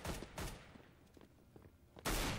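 Gunfire in Counter-Strike: Global Offensive: a few sharp, loud shots in quick bursts near the start, quieter distant pops in between, then a heavy close burst at the end.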